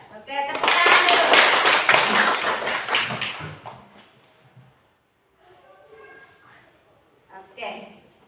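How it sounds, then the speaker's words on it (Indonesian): A classroom of children claps together in a loud, busy burst of roughly three seconds, which then fades into quieter moments with voices talking. "Oke, tepuk tangan dulu."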